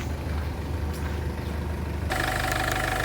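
A 2011 Ford Figo diesel engine in good condition idles with a steady, close rumble, growing louder and more rattly partway through, with no talking.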